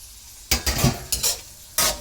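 Beef sizzles as it is sautéed in a pan, with a few bursts of frying and the scrape of a utensil stirring, close and moderately loud. No one speaks.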